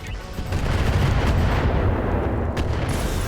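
Mech weapons fire in a Battletech Roguetech battle as a dense, loud barrage of rapid gunfire and booms that continues unbroken for several seconds.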